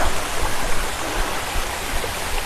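A waterfall on the hillside above Tiruvannamalai gives a steady, continuous rushing roar of falling water. It is loud and even throughout, with no voices.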